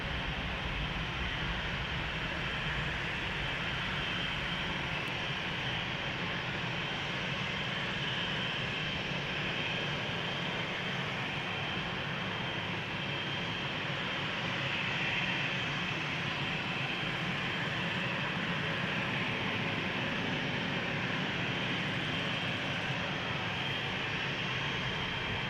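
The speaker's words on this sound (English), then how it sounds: "Croatia Airlines, flight 451 going to Zagreb. A319, 24 years old, first flight June 2000." A 24-year-old Croatia Airlines Airbus A319 takes off from Amsterdam Schiphol as flight 451 to Zagreb, a loud, sustained, broad jet roar that holds steady throughout without speech.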